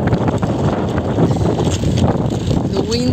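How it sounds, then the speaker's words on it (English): Strong spring wind blows steadily outdoors, a loud, continuous roar and buffeting across the whole stretch with no pause. "The wind is strong."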